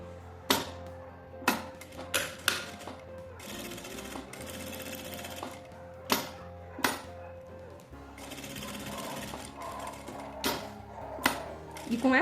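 A sewing machine stitching a fabric phone wallet, running in steady whirring bursts up close, with sharp clicks and knocks between runs as the fabric is adjusted.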